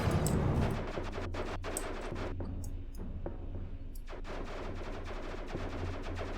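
Ship turrets firing in the space game Defect SDK, with a rapid series of sharp gunshot bursts, some clustered and some spaced, over a low engine hum and no speech.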